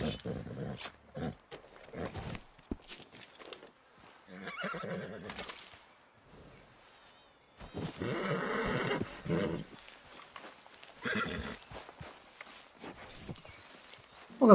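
Horse neighs and whinnies repeat in Red Dead Redemption 2, in several loud bursts with gaps between them, mixed with wild-animal and hoof sounds.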